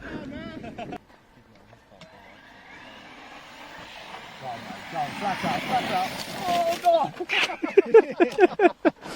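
Radio-controlled model aircraft engine revving up outdoors, starting low under people talking and building to a louder, rising whine toward the end.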